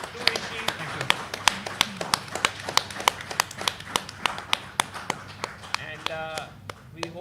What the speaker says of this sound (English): Guys, let's give a big round of applause to Vishy.